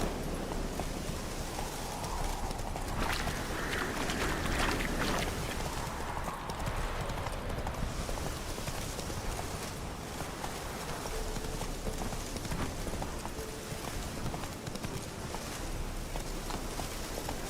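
A horse's hooves clip-clopping steadily while ridden in The Witcher 3: Wild Hunt, a continuous rhythmic gait under a dense, noisy game soundscape.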